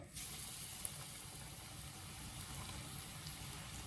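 Cauliflower pakoras frying in hot oil for a Ramzan snack, giving a steady, even sizzle with a faint crackle throughout, moderately quiet and close, with no talking.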